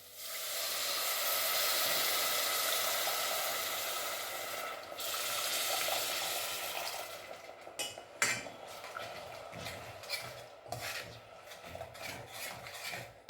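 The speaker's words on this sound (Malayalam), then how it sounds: "പുളിവെള്ളം ഒഴിക്കാം" Tamarind water is poured into a hot pan of curry, bursting into a loud sizzling hiss that fades after about five seconds, followed by scattered clinks and scrapes of a utensil stirring the pan.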